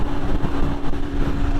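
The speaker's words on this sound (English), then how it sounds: "The pops, the gurgles, I love it. Oh, they're so fucking loud." BMW S1000RR motorcycle fitted with an Arrow exhaust header, riding on a cold 28-degree morning, its engine droning loudly and steadily throughout with rough, rumbling texture and wind buffeting.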